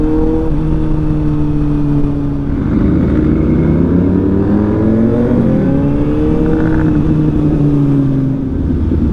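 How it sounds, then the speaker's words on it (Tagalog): Heavy road traffic near Tansa on a ride through Taal, Batangas: several car and motorcycle engines idle and rev close by, overlapping hums rising and falling steadily throughout with no talk. "Grabe yung traffic guys."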